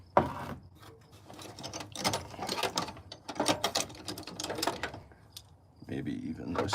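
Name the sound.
large wrenches ratcheting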